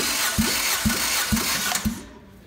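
A Toyota Corolla 1.4-litre 4ZZ engine cranks during a compression test on the first cylinder, a steady rhythmic chug of four even compression strokes about half a second apart, loud and close, then cuts off.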